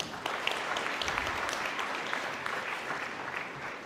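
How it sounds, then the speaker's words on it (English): An indoor conference audience claps to welcome a special guest, giving steady, dense applause from many hands that holds evenly for a few seconds without voices. "for our special guest with a big round of applause."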